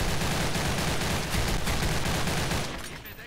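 Gunfire in the shooter Special Force 2: dense, rapid automatic bursts, loud and close, overlapping for about three seconds before tapering off.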